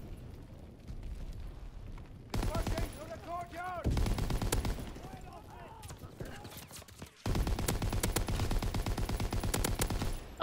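Light machine gun fire in Call of Duty WW2, long sustained automatic bursts in two main stretches, loud and dense, with a player's voice talking over the gunfire in between.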